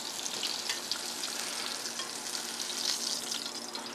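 Butter heating and frying in a pan, a steady close sizzling hiss with light crackle throughout and no voices.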